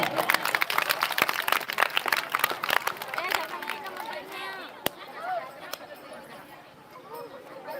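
An audience claps hard and fast at a children's Ramdhuni devotional singing competition, a dense burst of applause that gradually thins and fades, with voices and chatter mixed in and a few sharp knocks.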